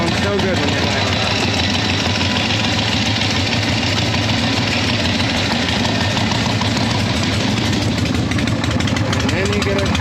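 A motorcycle engine runs steadily and loudly throughout, with a dense rumbling drone that does not let up, and a voice can be heard partly under the engine noise.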